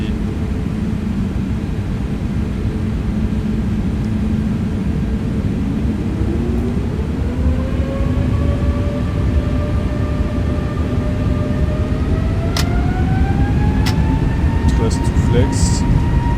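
An airliner's engines spool up to flex takeoff thrust on the runway, a loud, steady roar whose whine climbs in pitch over several seconds, heard from inside the aircraft.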